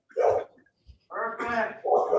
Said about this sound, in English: My dog just decided to bark right as it's my time